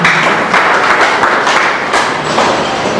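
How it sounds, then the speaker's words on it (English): Audience applause for a dean of student affairs at an indoor event, steady dense clapping filling the whole stretch. "Please a round of applause for him."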